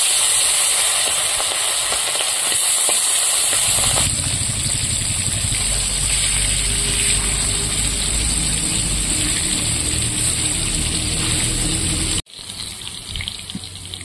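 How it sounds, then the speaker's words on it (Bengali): Hilsa fish frying in hot oil in a wok, a loud, steady hiss and sizzle that swells after the fish go in, then cuts off abruptly near the end before resuming more quietly. "এখন আমি তেল দিয়ে দেবো। মাছগুলো আমি হালকা করে ভেজে নেব।"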